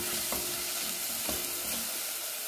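Chopped garlic and onion frying in olive oil in a pan, a soft even sizzle broken by two quiet stirring knocks, no voices.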